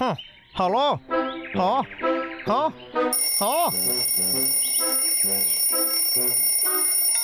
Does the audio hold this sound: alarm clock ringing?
yes